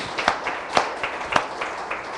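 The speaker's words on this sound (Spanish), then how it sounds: "dele al Señor ese aplauso" A congregation at a church service claps in a scattered, uneven rhythm, faint and somewhat distant, with a few sharper claps standing out above the rest.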